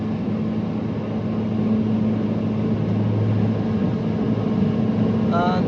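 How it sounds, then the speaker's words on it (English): An outboard engine on a Finmaster 6 boat drones close by over rushing water, its note lifting slightly as the engine is trimmed up to raise the bow, then holding steady. "the engine note just raised a little bit then."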